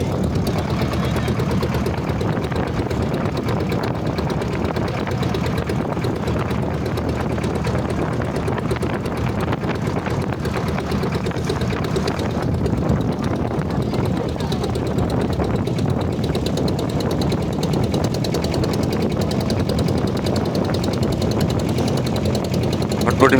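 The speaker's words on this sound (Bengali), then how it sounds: "ভটভটি মেশিনের সাউন্ডটা খুব সুন্দর লাগে নৌকাতে বোটে উঠলে" A country motorboat on the Shitalakshya river chugs with a steady low engine drone, continuous and fairly loud, while voices talk intermittently over it.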